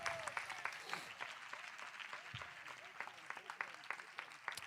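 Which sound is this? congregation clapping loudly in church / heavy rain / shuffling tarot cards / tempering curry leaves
congregation clapping loudly in church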